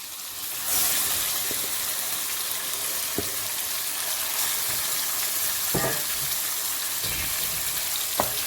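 Chicken pieces drop into a hot pan for a chicken and potato gravy, setting off a loud, steady hissing sizzle that continues throughout, with a few light stirring knocks and no talking.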